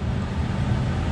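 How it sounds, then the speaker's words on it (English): A steady, loud cooling fan at an electric vehicle charging station on a road trip from Norway into Germany, a continuous low whooshing drone with no breaks. "I'm sorry about the fan, it's quite noisy"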